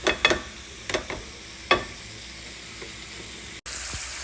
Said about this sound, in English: I'm going to brown it